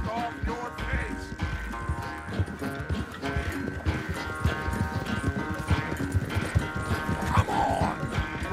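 Horse hooves gallop during a race in Red Dead Redemption 2, a steady, rapid clip-clop drumming close by throughout, with a voice talking over it and background game music.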